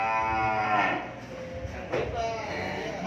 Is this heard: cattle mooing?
yes